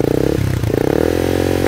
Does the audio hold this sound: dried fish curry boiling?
no